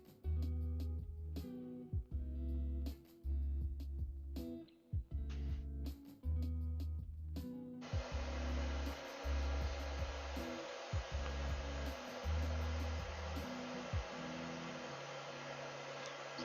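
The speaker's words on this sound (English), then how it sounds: "Let's quickly give that a go with the hairdryer." Hairdryer switching on and blowing a steady broadband rush over a painted pixie bust model, entering after earlier wooden tapping and scraping work sounds and continuing loud and constant to the end.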